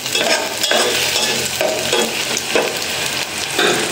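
Garlic sizzles and crackles steadily in hot oil in a pan for a sour jujube curry, with faint stirring scrapes recurring through the close, continuous frying hiss.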